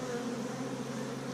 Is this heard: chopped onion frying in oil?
no